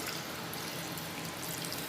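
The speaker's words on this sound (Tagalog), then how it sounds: "Bukas natin yung tubig." Water pours into a cooking pot of soup in a steady, hissing stream that stays quiet and close for the whole moment, with no speech.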